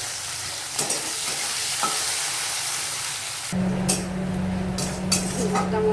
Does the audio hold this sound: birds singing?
no